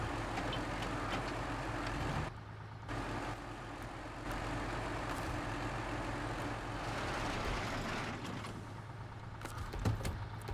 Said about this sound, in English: God, that other truck is so loud I couldn't even tell this thing was running